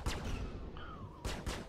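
Gunfire in Star Citizen's Vanduul Swarm mode: a sharp shot opens, then a lull with a thin whistling tone, then a quick volley of loud shots close together near the end.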